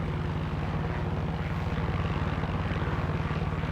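Rotor and engine drone of a helicopter in flight in the Far Cry 6 video game, a steady, loud, continuous pulsing hum with no talk.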